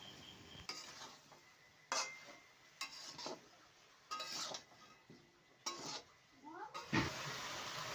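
Shukto, a Bengali vegetable curry, is stirred in a pan, with a series of separate scraping strokes and utensil clinks in an irregular rhythm over a quiet background and a soft low sizzle.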